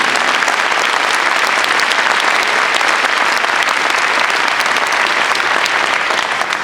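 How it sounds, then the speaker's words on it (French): Loud, sustained applause from a large crowd, steady and dense throughout with no pauses. "Je voudrais qu'on les applaudisse bien fort."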